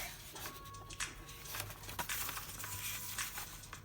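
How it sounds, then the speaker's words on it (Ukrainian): Paper crackles and rustles as an A4 sheet is folded for a paper wallet, steady close handling with a few crisp creases and taps over a low background hum. "Згинаємо його ось так."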